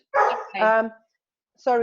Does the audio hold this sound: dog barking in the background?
yes